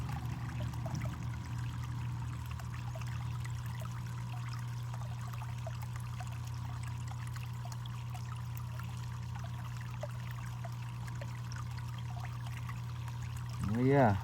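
Water pours and trickles steadily through gold prospecting equipment in a quiet backyard, with a pump humming continuously underneath; the flow stays even throughout and swells briefly at the very end.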